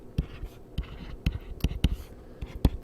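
Short, sharp strokes of writing, with pen or marker taps and scratches coming in irregular bursts, close and fairly quiet.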